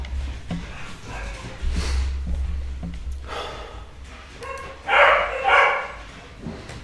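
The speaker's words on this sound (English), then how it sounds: "Dogs are all very excited because my wife's come back" Several excited dogs barking indoors at home, bursts of yips and barks coming in uneven clusters, some close and loud, others softer, with snorting and panting between them.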